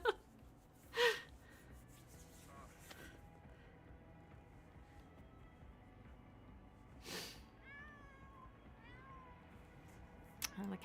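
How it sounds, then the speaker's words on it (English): A cat in The Sims 4 meows a few times, a short bright call near the start and another later, over quiet game ambience with soft background music. "the cat is meowing"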